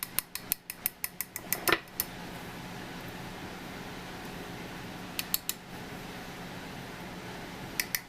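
Spoon scraping and clinking against the sides of a mug while mixing keto chocolate muffin batter, a quick run of sharp taps, then a quiet stretch, then more scattered clinks, close and fairly soft.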